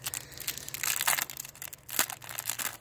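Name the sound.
unwrapping a packaged Dragon Ball trading card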